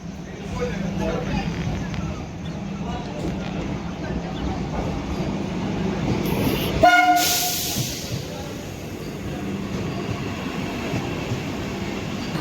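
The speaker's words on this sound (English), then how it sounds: "एक वंदे भारत train है which came from Pune and going to Nagpur. So it stopped here." Vande Bharat train running from Pune to Nagpur pulling in at a station, a low steady rumble of the rolling train with a sharp horn blast midway, while a voice talks over it.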